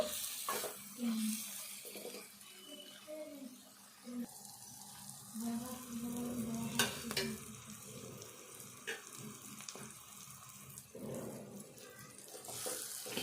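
Bitter gourd pieces sizzle in a pan as they are stirred with a spoon, a moderate, steady wet crackle broken by scraping and clinking strokes, with no talk.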